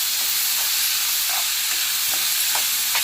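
Onions, green chillies and peanuts frying in a pan, a constant close hiss and sizzle with a few soft stirring scrapes scattered throughout.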